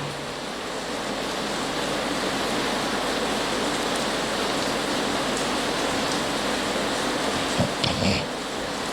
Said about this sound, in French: Je ne veux pas que la pluie vous dérange.